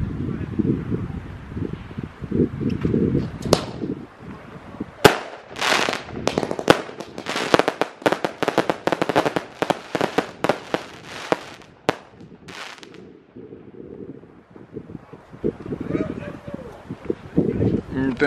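Test firing of a 42-shot Koldinghus fireworks cake in Denmark: a rapid, loud string of sharp bangs and crackles for several seconds, with wind noise and people talking before and after the barrage.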